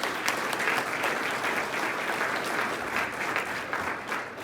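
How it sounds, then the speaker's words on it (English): A chamber of commerce breakfast audience applauds its premier sponsors, thick continuous clapping throughout that tapers a little toward the end. "One last round of applause to our Premier PERC sponsors."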